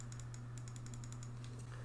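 Glorious Model D Minus gaming mouse buttons clicking repeatedly, a quick series of crisp, close, fairly quiet clicks in an uneven rhythm over a low steady hum.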